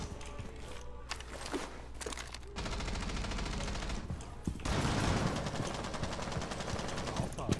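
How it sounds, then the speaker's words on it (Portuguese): Gunfire rattles in Rainbow Six Siege: short bursts of rapid automatic shots at first, then a longer, denser stretch of sustained fire, loud and close, with a voice briefly under it. "Eu estou só dando tiro só aleatório"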